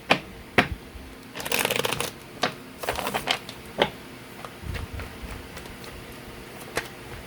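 Tarot cards being shuffled in a series of brisk riffling and flicking bursts with sharp card snaps between them, close and clear in a quiet room with no talking.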